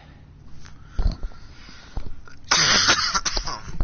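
A few rough, bursty coughs from a person, fairly close and moderately loud, with the heaviest burst near the end.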